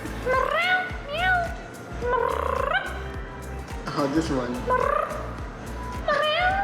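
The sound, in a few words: person imitating cat meowing at cats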